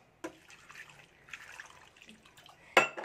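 Water splashes into a pressure cooker holding papaya pieces, with a sharp pour at the start, faint trickling and clinks in between, and a louder splash at the end.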